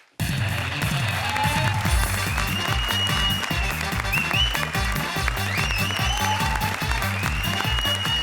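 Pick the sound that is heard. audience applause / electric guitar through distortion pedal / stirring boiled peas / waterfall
audience applause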